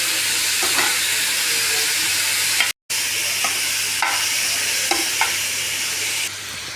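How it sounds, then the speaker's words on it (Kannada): Tomatoes frying in oil for tomato chutney, a steady close sizzle with soft stirring scrapes and a brief dropout midway. "ಟೊಮೊಟೊ ಎಣ್ಣೆಲಿ ಫ್ರೈ ಆಗಬೇಕು."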